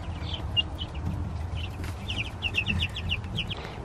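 Baby chickens in a backyard brooder cluck and peep in quick, high bursts throughout, close by over a steady low background hum.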